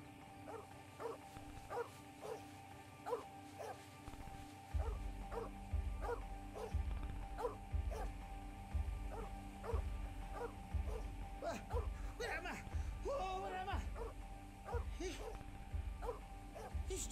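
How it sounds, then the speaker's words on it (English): A dog barks again and again as a sound effect in a radio drama of The 39 Steps, with rapid, evenly spaced barks over a low background rumble, moderately distant and persistent. "It would have been all right but for that infernal dog."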